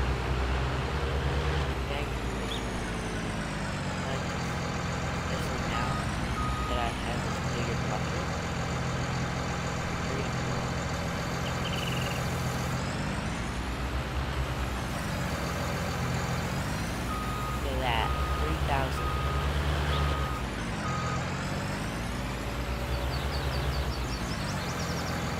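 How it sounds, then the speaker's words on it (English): An excavator and truck in a construction video game, with a heavy, steady engine drone and repeated reversing beeps running throughout. "So far, I've been doing pretty good with this excavator."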